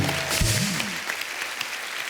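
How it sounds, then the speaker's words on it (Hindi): A studio audience at a comedy talk show claps in honor of their mothers, a broad wash of applause, while a brief voice-like tonal sweep rises near the start before the clapping carries on alone. "तो एक बार फिर से अपनी अपनी मम्मी के नाम पे ताली हो जाए।"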